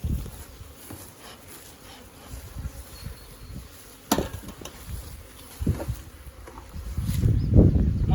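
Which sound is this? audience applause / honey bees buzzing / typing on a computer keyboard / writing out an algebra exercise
honey bees buzzing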